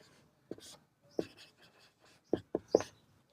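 A pen scratches on paper while a maths exercise is worked out by hand. Short, quiet strokes come in sparse bursts, separated by near silence.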